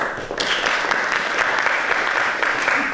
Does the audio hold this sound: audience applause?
yes